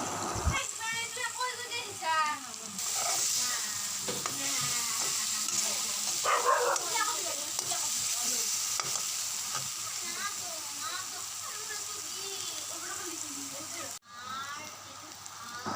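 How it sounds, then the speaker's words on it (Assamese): Potatoes and pumpkin sizzle with spices in a hot pan for an Assamese-style curry, a continuous frying hiss with scraping stirs and occasional clinks, while a voice talks over it and a dog barks in the background. "এতিয়া আলু আৰু কোমোৰাবোৰ মছলাৰ লগত ভালদৰে মিহলাই লৈ ল'ম"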